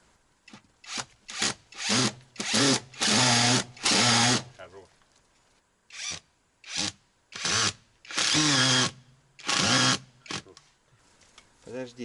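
A power drill with a bit drives a self-tapping screw into wood, rising in repeated whirring bursts of varying length with brief pauses between, loud and close, during work on a cabin with a large stove.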